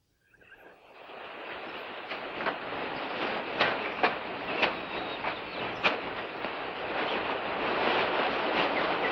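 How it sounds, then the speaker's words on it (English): Steady broadband rush of flowing water from a jungle stream, close and continuous, rising slightly over the span with a few brief sharper splashes; no talking. "Sounds like water."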